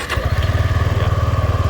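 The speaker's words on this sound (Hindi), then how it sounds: "बाइक स्टार्ट हो गई और इसकी हाई बीम ऑन कर देते हैं।" A Suzuki V-Strom 250 SX motorcycle engine fires up and settles straight into a steady, pulsing idle, close by and fairly loud, with no voices over it.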